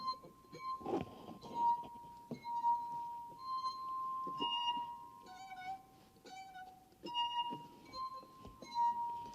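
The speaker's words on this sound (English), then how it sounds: "Another kind of glass, different depth of water, different resonating air chamber, different wall thickness, all together." Water-filled drinking glasses set ringing as resonating vessels of differing water depth and wall thickness, clear sustained tones sounding in a slow series, some overlapping, with faint clinks in a quiet room.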